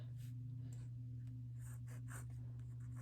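A Conklin 1898 Spectra Fusion fountain pen scratches across paper in short, soft strokes and pauses, close up and quiet over a steady low hum.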